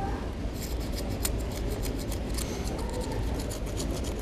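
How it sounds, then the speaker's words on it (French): Scissors cut repeatedly during surfboard assembly, a quick series of close, crisp snips over a rough scraping background. "Par contre, là, avec le ciseau, c'est pas évident, mais on va y arriver."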